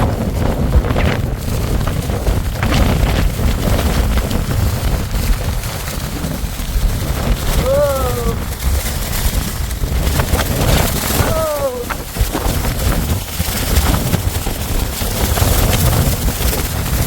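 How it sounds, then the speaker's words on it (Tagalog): Strong wind buffets the microphone at the Cliffs of Moher in Ireland, a loud continuous roar with gusting low rumble throughout, with brief voice sounds in the middle. "Napatigil ako doon sa lakas ng hangin."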